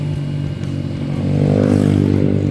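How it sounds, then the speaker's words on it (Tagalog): A Honda CB400 motorcycle engine runs steadily close by, a low rumbling idle that swells slightly in volume partway through, with no voices over it. "Ito CB400 na ito. Napakapugi, napakaganda ng tunog."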